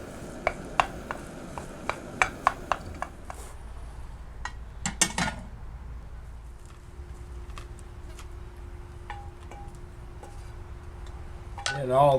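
Powdered eggs being whisked in a bowl for a grid-down breakfast over coals, with a run of sharp clinking taps of utensil on container near the start, then quieter scraping and a faint sizzle.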